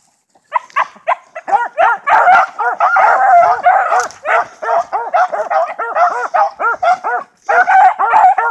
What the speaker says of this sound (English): the little red collar pup is a straight pup out of Dirt Farmer that is just now 5 months old